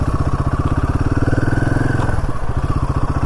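A Royal Enfield Himalayan 450 motorcycle engine runs loud and close with a steady pulsing thump, its note dipping briefly as it shifts on a ride near Dwarka in Gujarat.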